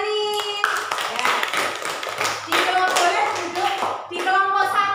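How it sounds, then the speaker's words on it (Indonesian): A classroom of students claps for Mbak Anin during a lesson, with brisk uneven clapping mixed with voices and a sung or chanted tone throughout. "Tepuk tangan untuk Mbak Anin."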